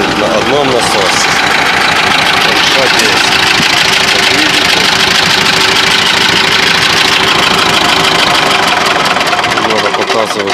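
A T-25 tractor engine idles steadily with a knocking mid-range drone while it drives a single hydraulic pump serving the hydraulics and power steering, loud and continuous throughout, with a voice talking over it.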